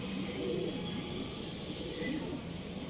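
Soft, steady cooing from pigeons kept in a loft, close and continuous for a few seconds, set against a low hiss of room noise.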